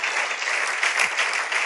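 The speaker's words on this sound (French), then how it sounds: "Glorifions le Seigneur par des acclamations" A church congregation applauds and cheers in praise, producing a loud, dense, continuous roar of clapping and crowd noise that fills the whole moment without any break.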